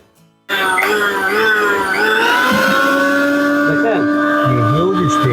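A Philips HL7701 blender motor switches on abruptly and runs loud and steady, its high whine holding pitch and shifting slightly in tone as it keeps spinning, with nobody talking over it.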